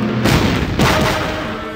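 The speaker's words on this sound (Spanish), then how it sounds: "¿Fuegos artificiales?" A rapid burst of booming pops, two big bursts close together, then a crackling, rumbling tail that fades slowly.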